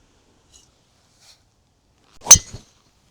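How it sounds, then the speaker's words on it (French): A golf driver strikes a ball off the tee, one sharp, loud crack followed by a brief rattle, with near silence before and after. "Ça, c'est un bon drive."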